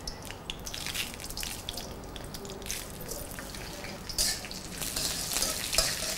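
Dried red chillies, red mustard seeds and five-spice tempering fry in hot oil, giving a soft, steady sizzle with small pops and crackles that grow louder toward the end.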